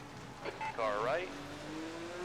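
IndyCar race car in Assetto Corsa on the Sao Paulo street circuit, another car's engine note rising and sweeping past with a brief high whine, fairly faint, with a voice speaking over it.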